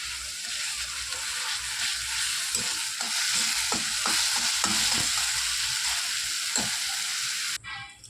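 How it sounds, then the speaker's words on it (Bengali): Chopped onion with ginger-garlic paste fries in oil, giving a constant close sizzle broken by several spoon scrapes, then cutting off abruptly near the end, with no voices. "আমার পেঁয়াজ আদা রসুন ভাজা হয়ে গেছে"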